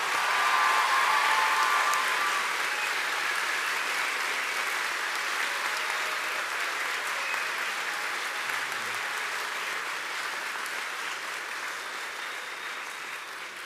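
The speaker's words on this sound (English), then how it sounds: "you can go ahead and give them all a round of applause" Sustained applause from a large audience at a Baptist college commencement ceremony, loud and dense at first and slowly tapering over about fourteen seconds, with no talking.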